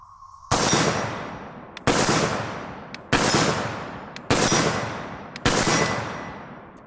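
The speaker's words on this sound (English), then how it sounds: "All right, here we go, shooting at some steel" Palmetto State Armory Krink rifle fired at steel targets 50 yards away, with five loud, sharp shots about a second apart, each trailing off in a long echo, and faint metallic pings between them.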